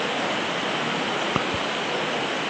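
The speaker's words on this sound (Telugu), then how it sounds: "వర్షం ఎంత గట్టిగా పడుతుందంటే ఈ వంక చూడండి ఎంత జోరుగా వెళ్తుంది మనకి వాటర్" Heavy rain pours down beside a fast-rushing stream on the forest trek path from Pamba to Sannidhanam at Sabarimala, a steady dense broadband roar with a couple of faint brief knocks and no voices.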